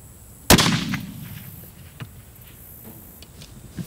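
A single loud rifle gunshot cracks at a long range shooting session, followed by a long rolling echo and a few faint distant ticks afterward.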